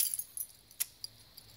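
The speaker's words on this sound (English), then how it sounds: "she has her keys to her car" Car keys on a ring jangle close by in a few light, sparse metallic clinks against quiet background, with no talk.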